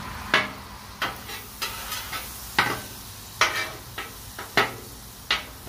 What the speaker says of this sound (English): Let that butter melt fast.